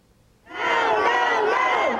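Dozens of Filipino migrant workers protesting outside the Manila Economic and Cultural Office boo and jeer loudly as one crowd, rising suddenly from near silence into a sustained, heavy roar.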